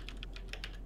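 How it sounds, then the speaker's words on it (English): Rapid typing on a computer keyboard: a quick run of sharp, clattering key strikes, close and fairly loud, with no voices. "Just slam the keyboard."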